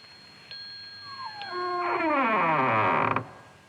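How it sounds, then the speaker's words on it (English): A heavy strong-room door creaks open by itself, a long, rising, groaning creak with a howling, wavering tone that swells loudly, then stops abruptly, heard alone. "Watch, and you will see the door open of itself."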